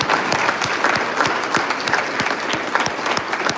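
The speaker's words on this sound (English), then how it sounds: "let's give them a round of applause" Audience at a Marine Corps birthday ceremony held by a high school MCJROTC unit applauds veterans standing in the crowd, with steady, dense clapping that fills the room throughout.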